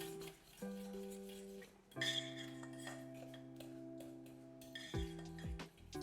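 Flaxseed egg substitute being stirred into an oatmeal berry batter, with steady soft scraping and occasional light clinks of utensil against bowl, close and fairly quiet, with no talking.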